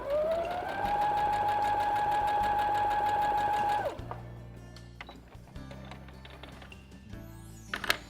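A sewing machine hums close and loud through a continuous run stitching a 1 cm seam on fabric for a small girl's purse, rising to speed and holding for about four seconds before stopping, followed by soft handling rattles.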